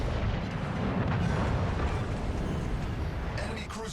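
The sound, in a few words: 14-inch battleship guns firing, World of Warships Legends video game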